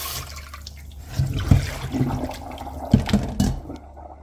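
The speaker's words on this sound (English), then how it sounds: "Rinse it off with some fresh tap water." Running tap water in a kitchen while rinsing corn pork for a Jamaican dish, a steady splashing stream with irregular louder gushes and drips, close and without talk.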